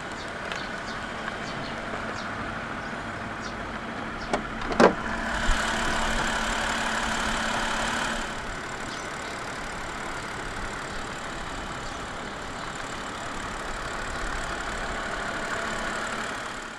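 A 2014 BMW 730Li with an N52 3.0-litre engine starts with a sharp click and a short rise in engine noise, then idles at a steady, moderate level, close by and without talk.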